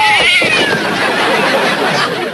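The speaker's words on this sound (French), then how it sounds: "Bouge pas le petit chat." A cat gives one loud, drawn-out meow close by, almost like a caterwaul, against a faint background.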